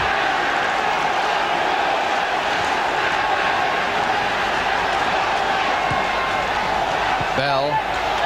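A damp crowd at the 1971 FA Cup fourth-round match between Chelsea and Manchester City keeps up a steady, distant roar of noise throughout, with a commentator's voice running over it.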